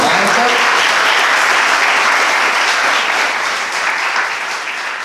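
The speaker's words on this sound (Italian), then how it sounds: "Un applauso per Marta." Full, steady applause from a concert audience greets a pianist at a piano concert, dense clapping sustained throughout and easing slightly toward the end.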